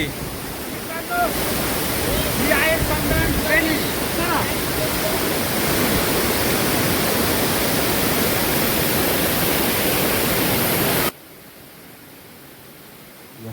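Monsoon water rushes loudly in heavy rain and strong wind at the start of Sandhan Valley in the Sahyadri hills, a dense steady roar mixed with gusting wind on the microphone, continuous for about eleven seconds before cutting to quieter ambience; faint voices underneath.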